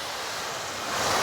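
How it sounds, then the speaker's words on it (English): Water from a hose rinsing a car panel after clay bar work, a steady close hiss of spray that swells slightly louder near the end, with no talking. "I'm going to go ahead and rinse it off."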